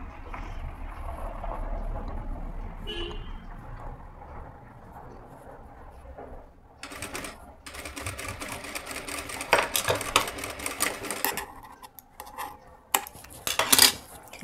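A sewing machine stitches a puff sleeve, running slowly in bursts, its steady mechanical whir broken by short pauses and a few louder, rattling stretches, with no voices.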